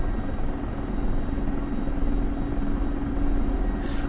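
A Mi-24P attack helicopter's turbine engines and rotors drone loudly and steadily in a flight simulator, a thick continuous whine and throb with no break.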